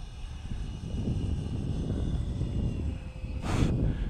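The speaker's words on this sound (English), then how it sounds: "It's not a very powerful EDF, unfortunately." A Hobby King Hall Cherokee RC plane with a low-powered EDF motor makes a steady, fairly faint whirring drone under outdoor wind noise, with a short bright hiss near the end.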